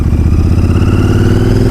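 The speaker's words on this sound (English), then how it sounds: "Let's give it a little rev with no clutch." Royal Enfield Interceptor 650 parallel-twin engine with baffles in the exhaust, revved in first gear with no clutch, a loud, steady, close throbbing exhaust note with a rapid even pulse and no talk.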